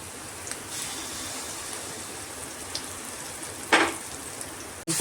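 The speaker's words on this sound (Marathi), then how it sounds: "आता आपण मिक्स केलेलं बेसनाचा घोळ पण टाकूया." Besan gram flour batter for pithla poured into a hot pan, giving a steady hissing sizzle with a brief louder burst near the end, close and continuous, no talk.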